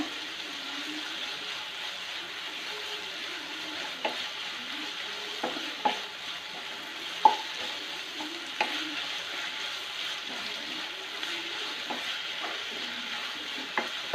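Ground ginger-garlic paste frying in a pan for Manjali biryani, with a soft continuous sizzle broken by irregular sharp taps and scrapes of a spoon stirring every second or two, close and clear with no talking.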